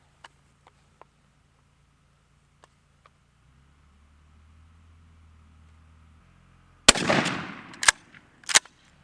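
A Remington 870 shotgun fires a Migra 7/9 TSS shell at a pattern target 50 yards downrange: one loud, sharp blast with a decaying roar, then two more sharp cracks follow. Before the shot there is quiet background hum and a few faint clicks.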